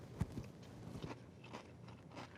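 Close, quiet crunching of cornflakes cereal in milk, several brief crisp bites and chews spread across a few seconds with no talking.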